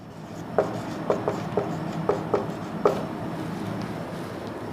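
Marker or chalk writing on a board in a chemistry lesson: a series of short, light taps and strokes at uneven intervals, close and clear over a steady background hiss, with no talking.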